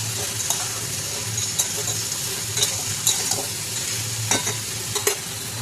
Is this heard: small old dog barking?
no